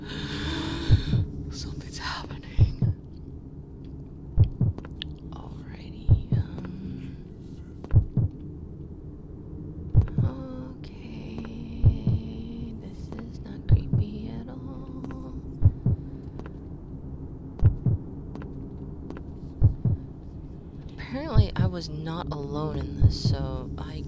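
A heartbeat in the horror game The Deep, a steady, even thump repeating roughly every two seconds through the whole stretch over a low ambient drone, with occasional game sounds on top.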